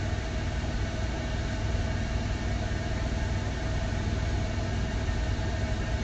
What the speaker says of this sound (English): And I hear another loco coming.